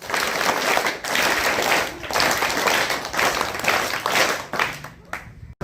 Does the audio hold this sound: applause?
yes